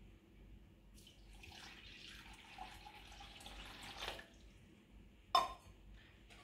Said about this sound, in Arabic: نديرو لها الماء